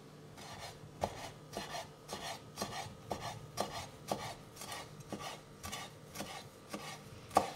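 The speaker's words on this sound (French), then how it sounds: "Vous allez rajouter un petit peu d'aneth ciselée." Knife chopping fresh dill on a cutting board, a steady run of crisp, regular strikes about two per second, close and clear with no talking.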